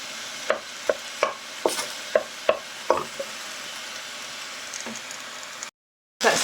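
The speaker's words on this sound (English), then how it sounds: "That's sizzling away quite nicely." Food frying in a pan while noodles and other ingredients are cooked, with a soft steady sizzle under a series of sharp clacks and scrapes of stirring, then a brief cut to silence.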